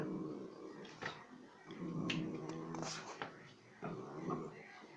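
A dog growls and grumbles in a low, rumbling run of sounds with short yips and whines, close by, while a person speaks in between.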